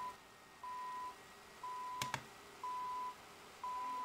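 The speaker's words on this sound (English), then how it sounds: "Okay, so the alarm just went off." Alarm clock radio sounding its alarm: a steady tone beeping in evenly spaced half-second pulses about once a second, fairly quiet, with a brief click or knock partway through.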